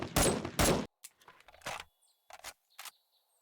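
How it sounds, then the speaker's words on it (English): A sniper rifle fires in the video game 7 Days to Die: two loud, sharp shots close together, then quieter clicks and handling sounds of the weapon, with no voices. "you have the sniper rifle, holding the most amount of rounds in any other rifle"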